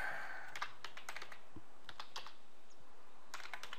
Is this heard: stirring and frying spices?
no